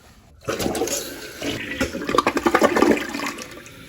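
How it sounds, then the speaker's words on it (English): A Kohler Devonshire 4438 toilet flushes after a full tank rebuild, a loud close rush of water starting abruptly, swelling into gurgling surges, then tapering into refill hiss. "let's see what the flush looks like"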